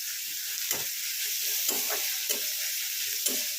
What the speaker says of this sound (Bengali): এটা নরম করে ভেজে নিয়ে ফেরত আসছি